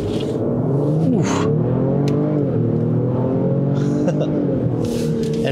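A 2020 Lincoln Aviator with a twin-turbo engine and 10-speed automatic in sport mode, floored from a dead stop. The engine note climbs loud and close, with quick gear shifts breaking the rising roar.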